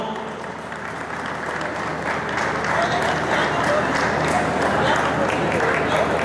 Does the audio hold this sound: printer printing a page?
no